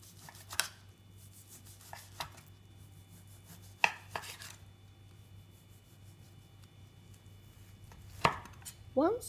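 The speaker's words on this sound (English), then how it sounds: "Slice the ham like this. It doesn't have to be super thin." A knife slicing through left-over ham on a cutting board gives a few sparse, separate cuts and taps against the board, each quite loud and close, with quiet gaps and a steady low hum between them.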